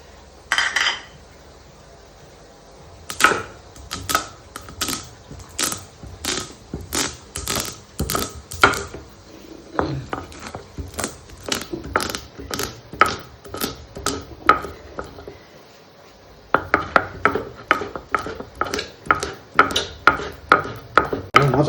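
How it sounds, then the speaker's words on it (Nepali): Timur seeds, Sichuan pepper, are ground by hand on a silauto stone slab, a rapid series of sharp grinding clacks and scrapes in rhythmic bursts, close and crisp, pausing briefly before resuming. "अब आज बत्तीको नहुनुको कारणले गर्दा अब म सिलौटोमै पिस्न गइरहेको छु यो"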